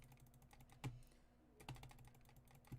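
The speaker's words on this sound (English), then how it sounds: "You can hear the aggressive mouse clicking." Sharp, aggressive computer mouse clicks during fast gaming, three hard distinct clicks spaced about a second apart over a faint background of lighter tapping, close and fairly quiet.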